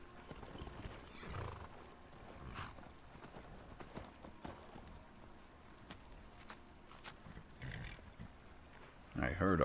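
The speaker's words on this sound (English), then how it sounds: "I heard a horse" Horse hooves clop at a walking pace over a busy Skyrim game soundscape, with a whinny and a louder burst at the very end.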